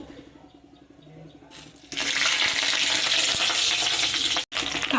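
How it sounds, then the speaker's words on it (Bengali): Black cumin and freshly added green chillies crackle in hot oil: a quiet pan first, then a sudden loud, steady sizzle that holds, broken by one brief cut-out. "এইবার এতে দেব এই কেটে রাখা কাঁচা লঙ্কাগুলো।"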